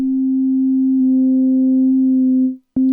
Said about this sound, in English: Nice sine wave.